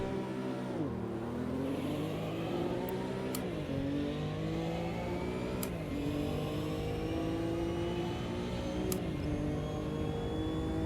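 A Lamborghini Diablo SV-R in the Automobilista 2 racing sim revs hard and repeatedly, each climb of the engine pitch cut short by a quick drop at a gear change, steady and moderately loud throughout.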